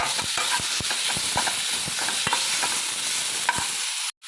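Onion and tomato fry in a pan with mustard seeds, chili powder and salt, giving a steady close sizzle with occasional sharp pops and stirring scrapes; it ends with a brief silence.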